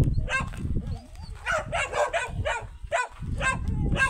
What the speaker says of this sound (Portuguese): Mais dois cachorros ali.